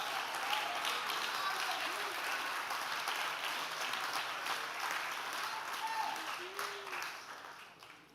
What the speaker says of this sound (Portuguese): Quem pode faz barulho de aplauso,